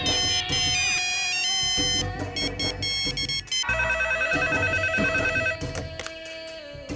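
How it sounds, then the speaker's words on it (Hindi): A telephone rings loudly and repeatedly in bright electronic bursts, layered over busy, noisy background sound with no talking. "ये रॉकी फोन क्यों नहीं उठा रहा है"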